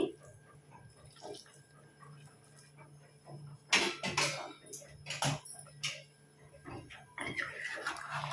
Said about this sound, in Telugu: ఇప్పుడు ఈ వేడి నీళ్ళు వేసుకుందాం